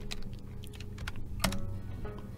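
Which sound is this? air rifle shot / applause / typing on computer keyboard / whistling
typing on computer keyboard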